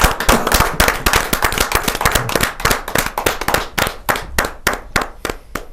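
An audience at a Hindi-Urdu poetry recital gives a kavi sammelan welcome with loud, sharp clapping, dense at first and thinning into scattered claps toward the end.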